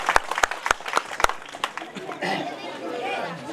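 An audience at a Marathi school program applauds, starting with a few sharp separate claps that quickly merge into a dense, steady round of clapping that continues to the end.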